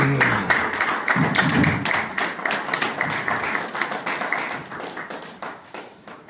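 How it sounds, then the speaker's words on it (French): An audience at a political gathering in Brussels claps together, a dense burst of hand claps that thins gradually into sparser, slightly uneven claps, fairly loud and close, with no talk over it. "On applaudit très très fort pour M. Jean-Paul Nathalie"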